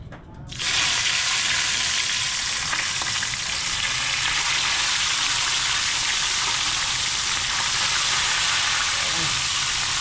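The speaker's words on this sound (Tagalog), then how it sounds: "Yun mga kabuto, umpisa na natin magprito" Loud, steady sizzling of bisugo (threadfin bream) frying in hot oil, a dense crackling hiss that continues without pause after a brief quiet start.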